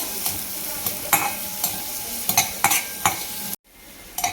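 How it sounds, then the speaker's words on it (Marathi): Chopped onion sautéing in a pan for mushroom soup, soft sizzling punctuated by regular spatula scrapes and taps, briefly cutting out near the end before stirring resumes. "आता हा कांदा आपल्याला छान लालसर होईपर्यंत छान असा परतवून घ्यायचा"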